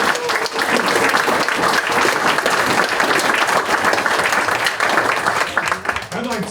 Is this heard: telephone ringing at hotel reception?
no